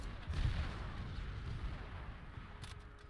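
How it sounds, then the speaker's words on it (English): A Browning machine gun fires in Call of Duty: World at War, heard as a low, rumbling roll of muffled, booming shots that hold steady for about three seconds and sit back in the game mix. "Ooh, a Browning."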